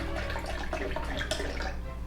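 A cup of spring water pours and splashes into a blender in a continuous, close trickle lasting a couple of seconds.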